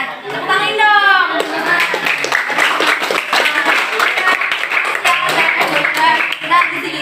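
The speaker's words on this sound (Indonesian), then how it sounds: "Tepuk tangan dong." An audience, apparently children, claps hands in a dense, continuous patter lasting several seconds, mixed with excited voices and chatter throughout.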